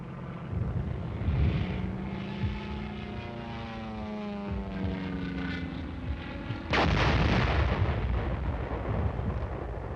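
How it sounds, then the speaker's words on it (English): Propeller aircraft in a Korean War airstrike on enemy hill positions in the Kumwa Valley, a droning engine sweeping past overhead, then a sudden heavy blast that holds as a loud, sustained roar. "Wave after wave of pulverizing airstrikes were necessary to soften up the objective areas."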